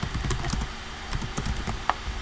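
Typing on a computer keyboard while entering a domain name, with a run of light, fairly steady key taps close by and a sharper click near the end.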